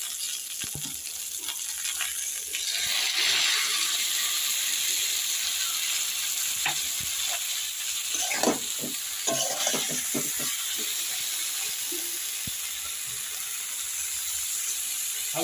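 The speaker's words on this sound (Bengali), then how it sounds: "এখন আমি এইভাবে নাড়াচাড়া করবো, করতে থাকবো" Cauliflower frying with a spice paste in a pan, a continuous hissing sizzle near and fairly quiet, with a burst of clustered spatula scrapes and knocks midway and no talking.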